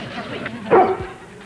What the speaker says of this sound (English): that's the lionest bark I ever heard